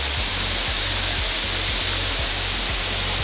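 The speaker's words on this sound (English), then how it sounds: "Oh, the waterfall is just so," Waterfall in Karura Forest roaring as a loud, steady broadband wash of falling water, constant throughout, with a faint low rhythmic thumping underneath.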